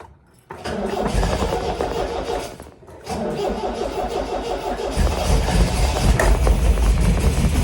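A 1972 MGB that had sat unused for nine months cranks, falters briefly, then catches and settles into a loud, rough running engine heard close up, with no talk.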